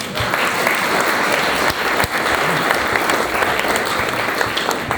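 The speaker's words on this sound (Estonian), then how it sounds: "võite teha aplausi suurema juba kohe." A seated audience at a jazz concert marking a 75th birthday applauds loudly and steadily, a dense, unbroken wash of clapping that holds for the full five seconds.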